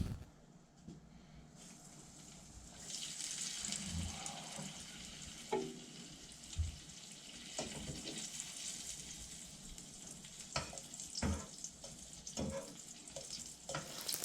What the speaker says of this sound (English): now you want to place it in your sizzling oil with the seam down so the roll will stay closed together